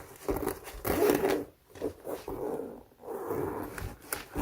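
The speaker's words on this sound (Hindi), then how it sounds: "या आप देख सकते हैं कितनी स्मूथली ये ज़िप वर्क कर रही है।" A repaired jacket zipper is pulled along its track, two or three close, rasping zips with short pauses between strokes, alone without talk.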